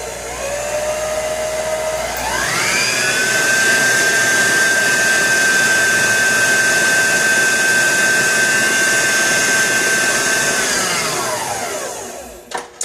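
An electric stand mixer with a paddle attachment beats a batch of vanilla cupcake frosting, its motor whining loud and steady as it ramps up in pitch, holds for several seconds, then winds down, with no talking.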